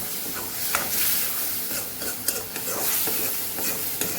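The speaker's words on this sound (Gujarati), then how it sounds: "આપણે ટમેટાની ટમેટાની પ્યુરી ઉમેરી દઈશું એને પણ સાતળી લેવાનું તેલ છૂટું પડે ત્યાં સુધી આપણાને સાતળવાનું છે" Spices and tomato puree sauté in hot oil for a Rajasthani eggplant curry, giving a steady, close sizzle with scraping stirs of a spoon in the pan throughout.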